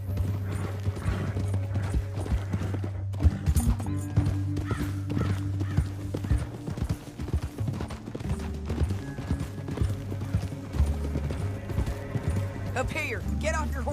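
Horse hooves clip-clop at a gallop in the open-world Western video game Red Dead Redemption 2. A steady rhythmic beat runs under a droning music score, with occasional voices and a whinny.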